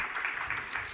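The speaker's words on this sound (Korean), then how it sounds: "우리 한 박수 한번 하겠습니다." A church congregation clapping during an Easter service, a short, dense burst of applause from many hands.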